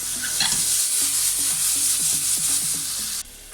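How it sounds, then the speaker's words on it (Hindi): Bitter gourd frying on high heat for karela sabzi, a loud, close, hissing sizzle with rhythmic spatula strokes scraping the pan, cutting off abruptly near the end, with no talking. "थोड़ा सा हाई पे भून लेते हैं, उसके बाद थोड़ा धीमी कर देते हैं इसको"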